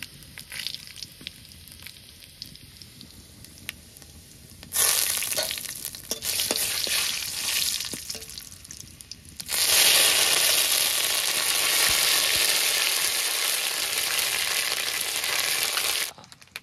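Dry chillies, panch phoron, bay leaf and ginger sizzling in hot oil for khichuri, a quiet start then loud bursts of hissing fry and a long, steady, intense sizzle, with stirring, no talk.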